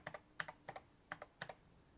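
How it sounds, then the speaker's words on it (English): Quiet typing on a mini PC's keyboard, light clicky keystrokes in small uneven clusters, close but soft, with no speech. "I love the way this keyboard sounds"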